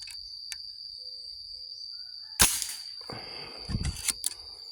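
A gun being test-fired outdoors at roughly 32 to 33 metres gives a sharp, loud report followed by a few rougher bursts and reverberant thuds, over a steady insect-like whine and background hiss.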